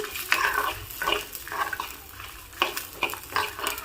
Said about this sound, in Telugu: కొంచెం చింతపండును కూడా వేసుకోవాలండి దీన్ని అంతటిని ఒకసారి కలుపుకొని వేయించుకోవాలి